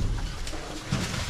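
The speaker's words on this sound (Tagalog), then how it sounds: "Tapos yung kalapati natin dito, oh." Domestic pigeon cooing on a farm where goats are kept, soft low-pitched coos under rustling outdoor background noise, close and fairly quiet.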